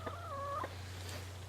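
A rooster crows once nearby, a short rising then level call lasting about half a second over a steady low hum, with faint background noise afterward.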